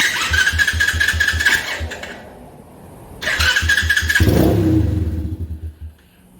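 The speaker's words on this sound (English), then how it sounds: "Start it back up." A 125cc pit bike fitted with a Mikuni clone carburetor is started twice: a rhythmic kick or crank chugging, a brief pause, then the engine catches and revs up loudly before settling back, nearby and without talk.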